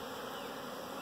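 Honey bees crowd the entrance of a yard hive as foragers return loaded with pollen, a dense, steady, close buzzing hum that fills the whole moment without a break or any talk.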